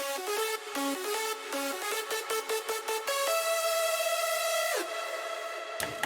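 A synthesized electronic melody plays alone, bright plucked notes stepping through a short phrase before settling into a sustained tone, clean and up front.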